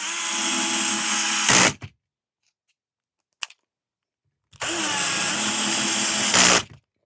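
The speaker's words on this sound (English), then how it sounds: "we take these 10 mil screws here, 10 mil button heads, and install the screws like so" A power driver whirs twice in long, steady bursts of about a second and a half each, installing 10 mm button head screws while assembling a Reve-D RDX RC car chassis, with a brief click between the runs and no talking.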